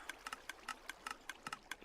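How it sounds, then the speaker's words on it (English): A seed sorter machine fitted with a rapid pulser fires off seeds in a steady run of quick, evenly spaced ticking pulses, faint and mechanical, with no voices. "Hear the sorter there, firing off all the seeds."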